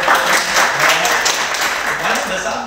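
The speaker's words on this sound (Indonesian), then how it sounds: "Wah, tepuk tangan dulu loh." Audience clapping at a workshop on earning money from social media, a steady crowd applause that carries on evenly for a few seconds while a voice talks over it.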